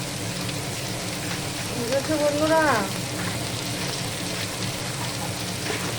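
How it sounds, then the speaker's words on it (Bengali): Onions frying in oil in a wok, a constant noisy hiss and crackle throughout, with a voice briefly speaking over it midway. "নুন দেবো পেঁয়াজটাকে তাড়াতাড়ি ভাজার জন্য।"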